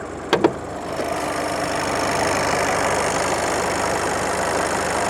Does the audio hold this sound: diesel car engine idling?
yes